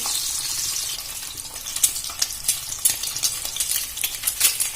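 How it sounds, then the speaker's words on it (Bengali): Eggs fry in a kadai with a bright, crackling sizzle, and soft stirring clinks and pops come in bursts toward the end. "আমি ডিমটাও লাল লাল করে ভেজে নেব"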